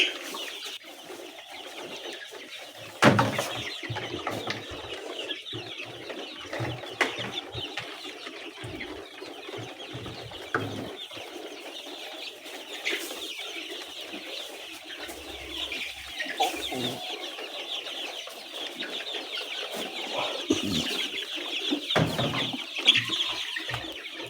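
Six-week-old layer chicks clucking and cooing continuously nearby at new feeders, a busy flock murmuring with occasional louder squawks over a rustling background.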